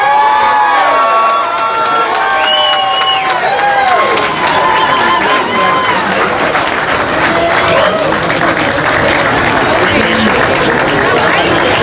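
At a homecoming Hall of Fame induction, a large crowd cheers, whoops and claps loudly and continuously for an inductee, with high shouts and whistles rising above the steady roar of applause.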